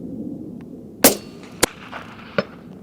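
Rifle shots fired through a Zeiss S3 scope with Hornady match ammunition, a sharp loud crack followed by quieter cracks spaced about half a second apart, heard outdoors over low background rumble, with no talking.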